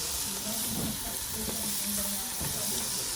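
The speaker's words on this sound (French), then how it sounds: "On fait revenir les oignons." Red onions frying in a pan, a steady broadband sizzle and hiss running continuously near the microphone, with faint stirring knocks and a quiet voice in the background.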